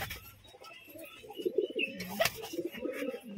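Long-bodied Kalshira pigeons with medium-sized beaks give low, soft coos that swell and fade among the birds in their loft, with faint scuffling and rustling around them.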